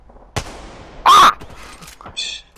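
Gunfire in Apex Legends during a ranked match, with a sharp shot near the start and a loud burst around the middle, then scattered fainter hits and game effects.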